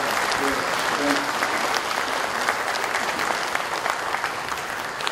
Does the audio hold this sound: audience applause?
yes